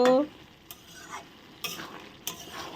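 Ghugni is stirred in a pan. A spoon scrapes and knocks against the pan in three or four distinct strokes, with faint sizzling between them, after a short tonal sound at the start.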